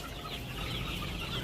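Color Bud broiler chickens clucking softly in a poultry shed, a steady low murmur of faint clucks over a broad hiss of background noise, with no voices.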